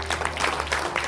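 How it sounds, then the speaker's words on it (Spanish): Church congregation applauding in praise during a worship service, a steady dense clatter of many hands lasting about a second, fairly close and moderately loud with a faint hum underneath. "Vamos, fuerte ese aplauso a la gloria del Señor."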